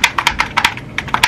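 Quick, close, clicky keystrokes in an uneven rhythm, a brief burst of typing on a compact Razer gaming keyboard.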